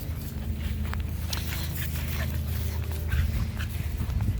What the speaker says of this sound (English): The dogs are having some fun in this weather.